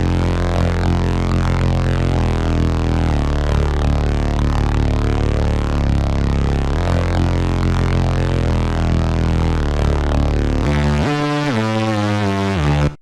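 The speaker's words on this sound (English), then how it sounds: "This next bass is called Maze and sounds like this." A bass preset named Maze from a Future Rave sample pack plays a loud, continuous, buzzy synth bass line that steps through several notes. Near the end it switches to a choppier, pulsing pattern and then cuts off.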